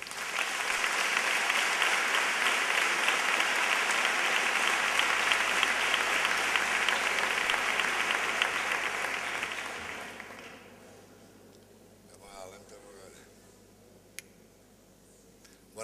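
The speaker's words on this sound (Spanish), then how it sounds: "Recibámoslo con un caluroso aplauso" Audience at a romería proclamation event giving warm, sustained applause for the speaker, a dense wash of many hands for about ten seconds before fading out into near-quiet with a few scattered claps and small noises.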